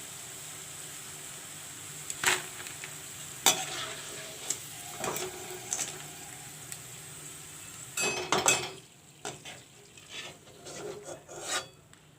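Fried potato chips are lifted out of hot oil with a soft background sizzle broken by repeated scraping, rattling strokes of a utensil against the pan, clustered and loud near the end.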